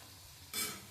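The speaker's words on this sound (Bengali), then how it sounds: "তো দেখো এখানটায় গোল গোল করে আলু ভাজা করছি" Round potato slices fry in a pan, with a faint steady sizzle and then a brief, louder burst of crackling hiss partway through, like a stir. The sound ends with a small clatter.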